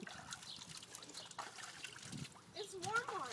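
Warm water trickles and splashes during a dog's bath, a soft, low-level running flow heard under talking voices throughout.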